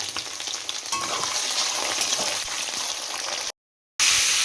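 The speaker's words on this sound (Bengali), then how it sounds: "এখানে চলছে ডিম ভাজা।" Eggs fry in a pan in a home kitchen with a busy, crackling sizzle heard up close, broken by a short silent gap before the frying resumes loudly.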